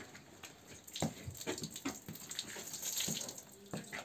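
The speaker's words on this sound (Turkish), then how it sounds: "Kafasına az bir su döküver." Water is poured over a cow's head on a dairy farm, splashing and trickling irregularly at moderate distance, with faint background noise and no clear talking.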